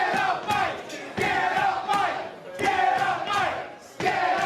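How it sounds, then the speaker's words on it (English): A wrestling arena crowd at an IMPACT X-Division Championship match chants in rhythmic bursts, loud repeated shouted phrases rising and falling with brief dips between chants. "Crowd chanting, "Get up, Mike.""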